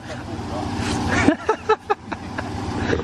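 An old Jeep 4x4 engine idles with a steady low rumble beneath voices of people talking nearby.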